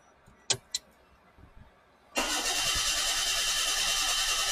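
A Perodua Myvi car engine is cranked but fails to start. A few faint clicks come first, then a loud, steady mechanical churn sets in and holds to the end.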